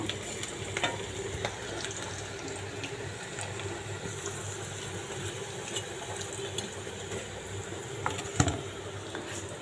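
Cabbage pakoras bubble and crackle in hot oil, a steady close sizzle with occasional louder pops and clinks, no talking over it.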